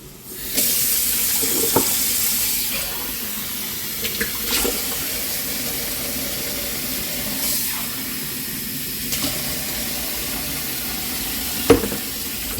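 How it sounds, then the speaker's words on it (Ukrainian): Tap water runs steadily into a pot for Ukrainian red borscht, a continuous close hiss with a few light knocks and clinks of the pot along the way. "Я буду заливати водою, тому що юшки і так неповна каструля."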